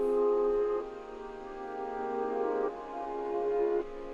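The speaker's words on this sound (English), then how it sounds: "And I also added in a piano, but I reversed it, so it sounds like this." A reversed piano sample plays alone in a studio beat, sustained tonal chords swelling in with backward attacks, changing chord roughly every one to two seconds, steady and moderately loud.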